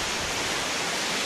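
Steady, dense rush of falling water at Changey Waterfall in Neora Valley National Park, a loud unbroken wash filling the whole moment with no voices.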